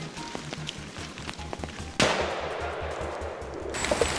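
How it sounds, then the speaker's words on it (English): Rapid bursts of gunfire during a wild boar hunt in the hills crackle in short repeated volleys, followed by a sustained wash of noise like echoing shots through trees. "Bursts of gunfire echoed through the trees"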